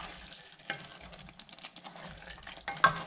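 A spoon stirring garam masala through mutton curry in a pan, soft scraping and gentle sizzling with a few sharper clacks against the pot, close up and quiet, no talking.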